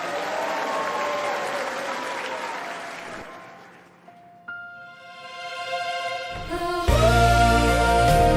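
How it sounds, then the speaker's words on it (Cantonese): Crowd applause welcoming the bride at a wedding, a dense sustained clapping that fades out after a few seconds, followed by music starting up. "下面請以最熱烈嘅掌聲歡迎新娘入場"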